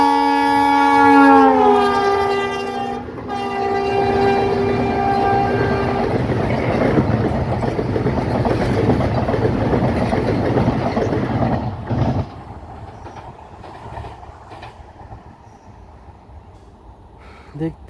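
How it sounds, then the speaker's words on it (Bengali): A fast train sounds a long, loud horn, then roars past close by with sustained rumbling and rattling wagons for several seconds before the noise drops away to quieter surroundings. "ট্রেনটা কয়েক সেকেন্ডেই দেখবেন পার হয়ে যাবে আমাকে, কতটা স্পিডে ট্রেনটা আসে।"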